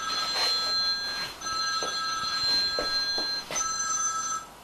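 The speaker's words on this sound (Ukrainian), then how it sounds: "Телефонні дзвінки вносять е, невеличкі паузи е, в наші розмови" A telephone rings in repeated electronic bursts with short gaps between them, steady and fairly loud over a quiet room, with no talk.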